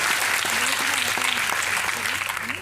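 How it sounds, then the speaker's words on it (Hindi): Applause from an audience at a network marketing meeting, dense and steady clapping throughout while a voice speaks over it, fading slightly at the end. "मैं चाहूंगा एक बार जोरदार तालियां सिद्धार्थ और चंचल के लिए।"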